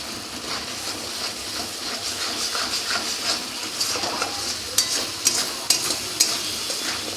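Spices with turmeric are stir-fried in a pan for a vegetarian eggplant dish, giving a soft steady sizzle with a few louder scraping stirs near the end and no voices.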